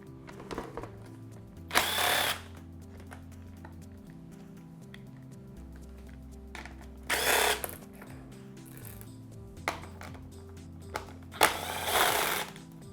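Power drill whirring in short bursts as hardware is unfastened from a motorcycle airbox, with three or four loud spin-ups separated by quieter pauses of low motor hum and small clicks.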